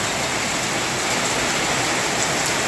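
Heavy rain pours down in a dense, loud, unbroken hiss that fills the whole stretch, strong enough to threaten flooding in a low-lying area.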